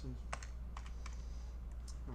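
A zip code is typed on a computer keyboard, a few quick, close, crisp key taps in short bursts over a quiet room with a low hum.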